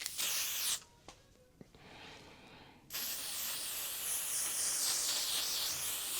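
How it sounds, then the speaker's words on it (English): Two bursts of hissing makeup setting spray, L'Oreal Infallible, one brief and one long and steady, close up, separated by a short quiet pause with faint handling sounds. "now we can do some setting spray and lock it in"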